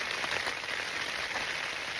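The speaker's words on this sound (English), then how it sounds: "God, listen to that rain." Heavy rain drums steadily on a surface outdoors during a wet hike on the Cape Wrath Trail, a dense, constant hiss with no pauses and no talk.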